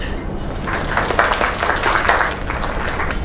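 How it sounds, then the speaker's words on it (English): An audience gives a short round of applause at an event finale, with dense clapping swelling and then easing off over a couple of seconds. "Another round of applause."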